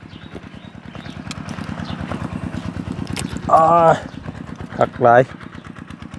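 A farm tractor's engine chugs with a steady, fast low thumping pulse throughout, while someone talks loudly over it in short bursts.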